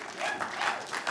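A motorcycle storytelling night audience claps briefly, a dense patter of many hands in a room, moderately loud.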